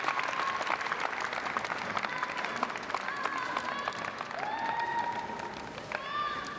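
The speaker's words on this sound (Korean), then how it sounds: "자, 큰 박수 이제 부탁드립니다." Sustained applause from a large crowd at a WDSF World Open dancesport competition before the standard final's quickstep, dense clapping throughout with a few whistles and cheers rising over it.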